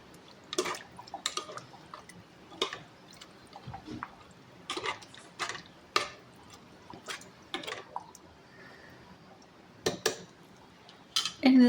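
A spoon clinks and scrapes against a metal pot in irregular strokes while chicken curry with water is mixed in a pressure cooker, with wet liquid sloshing between the taps and no talk.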